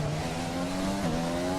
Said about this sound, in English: This is a Honda engine.